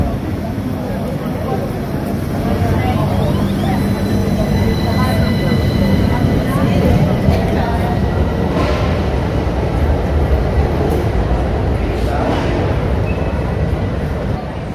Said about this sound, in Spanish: Tranvía antiguo y pasó uno moderno.